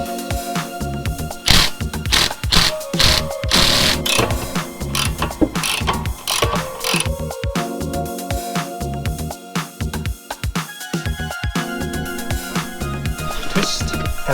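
Bolts being worked loose with a ratchet during a rear coilover install on a Datsun 280ZX, a dense run of close, rapid clicking bursts with metallic clanks, continuous and busy throughout.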